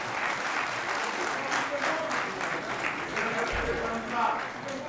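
Deputies in the National Assembly applaud dean Professor Laurent Bado at the opening of the second ordinary session, with steady, dense clapping from a large hall lasting throughout, a few voices mixed underneath.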